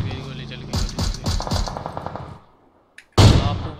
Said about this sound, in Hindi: चल गया भाई, गोली चल गई,